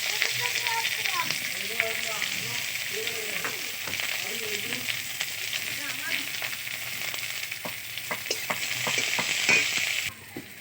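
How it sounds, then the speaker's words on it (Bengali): Chopped onion sizzles steadily in hot oil in a kadai, stirred with repeated scraping strokes of a spoon against the pan, close and continuous before cutting off near the end. "পেঁয়াজ দেখো ভাজা হয়ে এসছে প্রায়"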